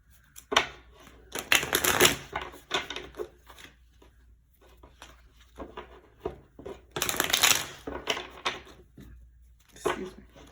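Tarot cards are riffled and shuffled by hand in several bursts of close, crisp flapping, separated by short pauses.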